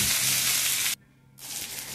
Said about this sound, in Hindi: फिर ये लंबाई में कटा हुआ प्याज है, उसको डाल के अच्छे से भूनेंगे।